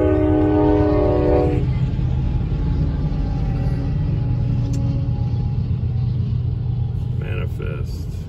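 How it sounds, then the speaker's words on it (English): A Norfolk Southern freight train at a rural Ohio railroad crossing sounds a loud sustained horn blast, then rolls past with a heavy continuous rumble and clatter of cars. "got a Norfolk Southern followed by UP"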